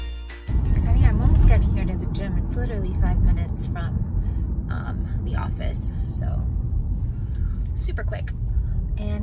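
Steady low road rumble from inside a car on its way to a gym, continuous and fairly loud throughout, with a voice talking over it for most of the stretch.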